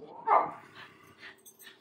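A dog gives a short, close whimper near the start, followed by softer whiny sounds while a person speaks quietly in the background.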